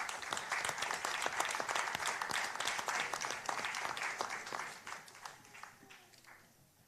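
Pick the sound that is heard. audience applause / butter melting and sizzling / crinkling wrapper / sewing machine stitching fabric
audience applause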